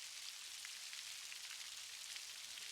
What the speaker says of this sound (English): The sound of your steps mingles with the rhythmic pattern of raindrops,